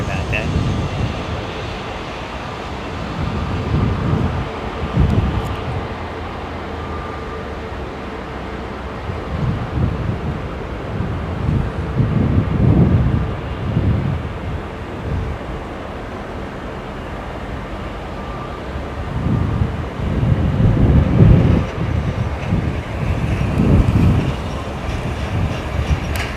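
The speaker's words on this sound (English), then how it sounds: "that's the Lufthansa 320neo with the same Pratt & Whitney GTF engine." Lufthansa Airbus A320neo with Pratt & Whitney GTF engines heard close by, a broad roaring engine rumble with swelling surges, mixed with wind and a talking voice.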